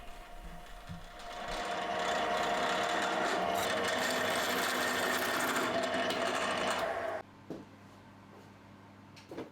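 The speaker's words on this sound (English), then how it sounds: "so I can get a couple of holes drilled using the drill press" A drill press bores a hole in wood with a 19mm spade bit, giving a steady, loud whine for several seconds that cuts off suddenly and leaves a quiet room.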